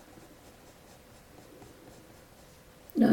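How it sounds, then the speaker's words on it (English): A Derwent Graphitint pencil scratches colour onto sketchbook paper in a faint, soft, rapid scribbling texture, close up and quiet, before a louder thump-like sound at the very end. "I'm just going to scratch a little bit of colour on that one."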